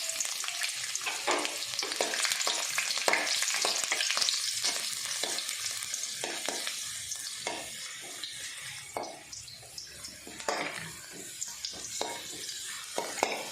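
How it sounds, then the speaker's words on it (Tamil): Garlic cloves sautéing in a pan with fenugreek for a fish curry, a steady close sizzle broken by repeated scraping stirs of a spoon against the pan, with no one talking. "அதில் சேர்த்துட்டு பூண்டு லேசாக வதக்கி விட்டுக்கலாம்"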